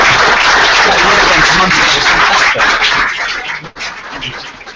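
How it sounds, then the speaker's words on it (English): Loud applause from the audience at a 2015 FSB Wales election debate for the panel, dense clapping and crowd noise that thins out toward the end. "So please offer yourselves and our panel and our colleagues North Wales one last round of applause."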